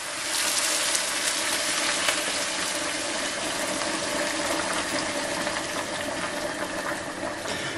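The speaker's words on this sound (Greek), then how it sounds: "δεν κάνουμε τίποτα άλλο από το να του προσθέσουμε ζεστό νερό." Hot water poured into a cooking pot holding meat, a steady close splashing and gurgling stream that continues evenly throughout, no talking.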